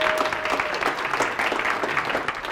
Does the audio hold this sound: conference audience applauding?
yes